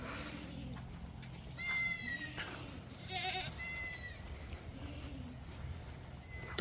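Goats bleating behind a protective wall on a farm, several wavering cries of moderate distance rising over a steady windy background.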